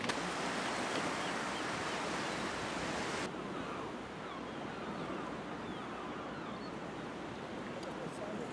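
Surf washing onto a Baltic Sea beach at Nienhagen, Germany, on a spring morning: a steady, broad wash of waves with wind noise, loud and continuous throughout, dropping slightly in intensity partway through.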